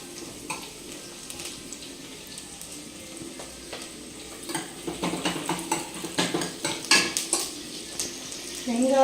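Onions fry in a pan for egg biryani, with a soft sizzle beneath a metal spoon scraping and clanking against the pan; the stirring grows louder and more rhythmic toward the end.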